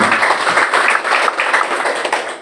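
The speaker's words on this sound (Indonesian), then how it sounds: "Tepuk tangan untuk Ibu Haji." Dense applause for Ibu Haji Ida fills the room at a PDI Perjuangan gathering, many hands clapping loudly and steadily in a close crowd.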